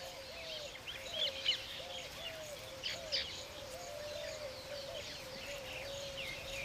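A bird building its nest gives repeated chirps and tweets, some brief and some more warbling, over a steady faint outdoor hiss, with no voices present.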